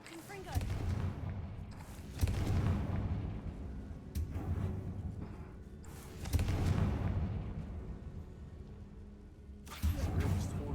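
A Confringo blasting spell goes off in the Hogwarts Legacy video game, giving a series of heavy booming bursts that stand out over a low rumbling game backdrop at a steady moderate level.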